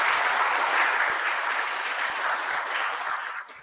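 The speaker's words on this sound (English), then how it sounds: "let's give one more round of applause to our speakers and our QA" Sustained audience applause for conference speakers and a Q&A panel on design systems, a steady dense wash of many hands clapping that fades out near the end.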